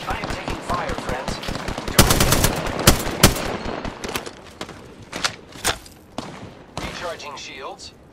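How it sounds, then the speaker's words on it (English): Rapid automatic gunfire from a video game shooter, loud close bursts and single shots over a dense game soundscape, with a voice talking over the action. "I am taking fire, friends."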